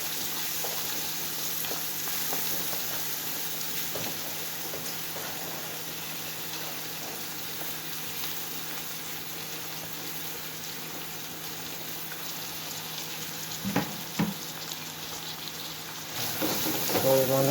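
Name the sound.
stir-frying fish chop suey with scallion and onion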